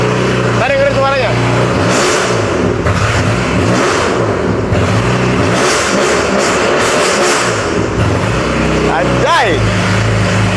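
A car engine with an aftermarket exhaust revs loudly with a raspy, rumbling note, pulsing through repeated throttle blips in a garage, while people talk nearby.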